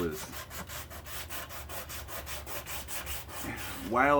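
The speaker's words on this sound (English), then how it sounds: "doing some of this sanding on this old table that I'm refurbishing" Rhythmic back-and-forth rasping of sandpaper on an old wooden table, steady strokes repeating about three times a second, close and fairly loud, with a brief voice at the end.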